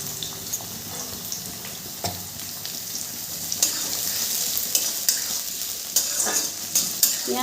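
Chopped onion fries in a pan with ginger and garlic, a steady crackling sizzle punctuated by repeated scraping and clinking stirs of a spatula, growing livelier toward the end.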